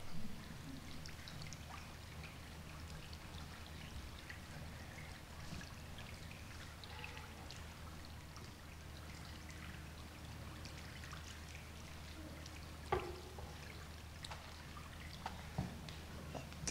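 Water poured steadily during a church water ceremony, a soft continuous trickle and stream lasting throughout, faint and distant in a quiet room with a few small clinks near the end.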